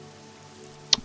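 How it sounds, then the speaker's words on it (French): Faint, steady rain patters as background ambience for a tabletop role-playing game, a soft continuous hiss broken by a single close drip tick near the end. "il pleut, ça limite copieusement votre champ de vision"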